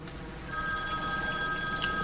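An old landline telephone rings steadily with a bright electronic tone, repeating alone with no talk over it, in a 1988 television drama.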